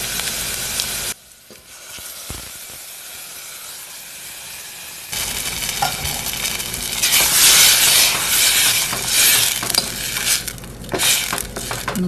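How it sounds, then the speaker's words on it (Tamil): Onion and garlic frying in a pan for tomato sambar, a hissing sizzle that drops away briefly and then returns louder and steady, with stirring noises and no talk. "வெங்காயம் பூண்டு நல்லா சிவப்பாக ஃப்ரை ஆகிடுச்சு"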